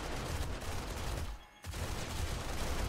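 Dense automatic gunfire from the 7 Days To Die video game against a Demolisher zombie, a continuous loud rattle with a brief pause midway.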